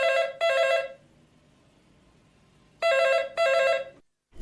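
A telephone rings in two double bursts separated by a pause, clear and fairly close with no talking over it, just before a phone call is answered.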